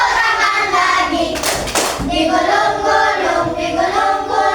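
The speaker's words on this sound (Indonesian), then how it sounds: "tepuk tangan lagi." Rhythmic hand clapping in a steady, continuous pattern, loud and close, with the sound of hands opening and closing in time, alone without talk.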